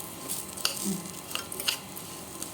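Tamarind and curry leaves dry-roasting in a pan, with a soft crackle and a few sharp clinks as they are stirred, fairly quiet and up close.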